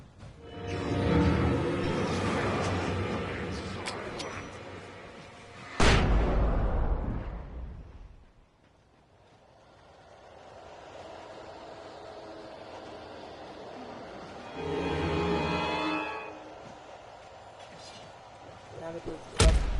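A flashbang grenade goes off in the Alan Wake video game, a sudden loud bang with a ringing tail amid rumbling game noise, followed later by another burst and a sharp hit near the end.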